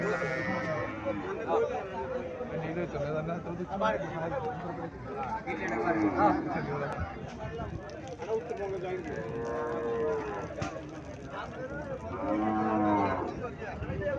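A Sahiwal calf moos repeatedly in long, drawn-out calls among other cattle, close by, with people chatting over and between the calls.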